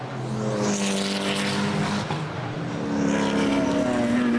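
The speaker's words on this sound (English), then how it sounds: "that car just looks and sounds absolutely awesome, making its way down to the twisty section of this Zandvoort circuit now" A Sin R1 GT4 race car drives through the twisty section of the Zandvoort circuit during a 2017 race, its engine roaring loud and steady with rising and falling pitch as it powers along, no voices over it.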